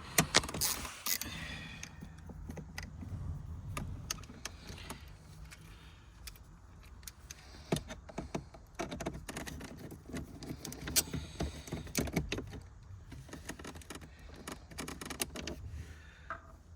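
A Phillips screw is worked loose beneath a pop-up plastic trim piece, giving small scattered clicks, creaks and metallic scrapes at close range with no talking.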